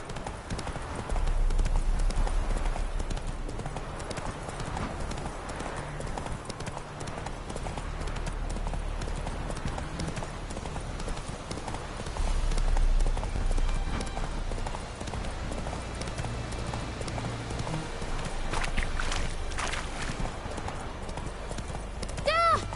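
Horse hooves clip-clop steadily throughout as a horse is ridden in a fantasy video game, with a continuous trotting rhythm, a brief whinny and some speech over the hoofbeats.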